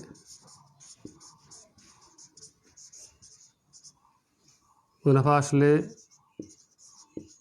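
Pen scratching on paper in quick, quiet strokes during a maths lesson, with a short burst of louder speech partway through.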